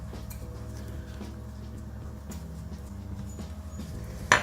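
A knife cuts sausages on a separate chopping board in a kitchen, giving soft, irregular taps and clinks over a steady low background hum, with one sharper knock at the end.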